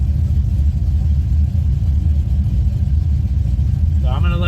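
A tuned car engine idles steadily at close range, a constant low rumble filling the whole stretch, with a brief voice-like tonal sound coming in near the end.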